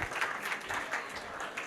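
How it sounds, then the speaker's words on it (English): An audience of children and adults applauds a boy at a role-model event, a fairly quiet, steady patter of many hands clapping from a short distance. "Can we clap for him?"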